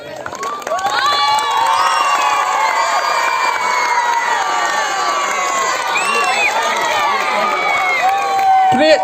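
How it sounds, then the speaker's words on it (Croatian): A large crowd of children cheers, whoops and shouts loudly and continuously at a youth football tournament on a stadium, with some applause mixed in. "Prije svega želim da se zahvalim vama na tako velikom aplauzu"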